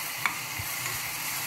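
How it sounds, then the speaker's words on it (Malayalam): Plantain pieces sautéing in ghee crackle in a short, even sizzle, with a single light stirring tap near the start. "നല്ലതാണ് ഏത്തക്കായും നെയ്യും കൂടി നല്ലതുപോലെ വഴറ്റിയെടുക്കാം"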